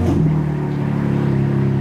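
A tuned BMW engine catches and settles into a loud, steady idle with a deep, even rumble right up close.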